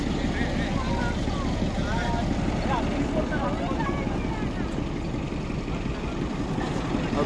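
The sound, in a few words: diesel locomotive engine idling at Darjeeling station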